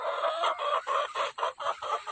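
A rooster from an Arab chicken crossbreed clucks in quick, repeated pulses that run into a crow, loud and close with no voices.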